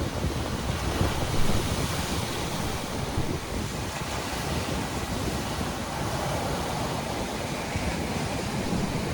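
Surf on a beach in Vega Baja, Puerto Rico, a constant roar of breaking waves mixed with wind buffeting the microphone, loud and broadband with no voices.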